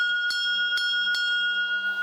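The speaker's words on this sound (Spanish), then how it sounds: "El repicar de una campana anuncia el inicio del recorrido por 350 pesebres procedentes de 30 países." A bell rings to announce the start of a nativity tour of 350 crèches from 30 countries, struck three times at an even pace with clear tones that ring on between strikes, close and with no talk.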